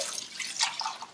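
Warm tap water runs and splashes over a dish and sponge being scrubbed at a sink, a steady close hiss with small drips and splashes.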